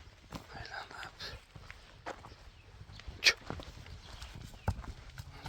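A young black Kyrgyz horse walks on a hard surface, its hoof steps landing in a loose, light rhythm of soft thuds, with one sharper knock partway through, against a faint outdoor background.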